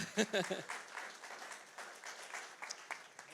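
A church congregation gives soft, scattered applause, with faint, uneven claps that come in loose bursts after a brief spoken moment at the start.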